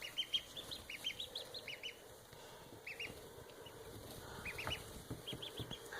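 Ducks in a backyard pen with a pool, quacking and honking in short repeated bursts, several birds close by at moderate loudness over low rustling noise.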